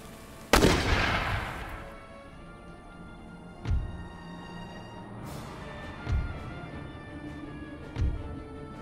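Musket volleys crack in a siege battle at Ankara in Empire: Total War, one loud close blast followed by three more scattered distant shots, each with a lingering rumble.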